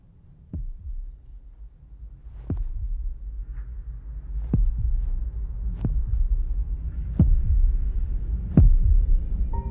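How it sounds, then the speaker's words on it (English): Heartbeat sound effect from a TV drama: slow, regular thumping beats about every one and a half seconds over a low hum, growing gradually louder across the clip, with no voices. "Roderick hears a heart beating along with bloodstains on Dupin's shirt."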